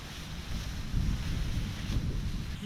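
Wind blows outdoors across a garden during a frost, a steady low rumble of buffeting against the microphone with mild gusty swells and no talk.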